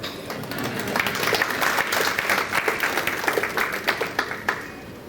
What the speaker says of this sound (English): I like the clap.